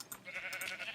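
Sheep bleating in a survival video game, a couple of short wavering calls, fairly close and clear with no talking over them.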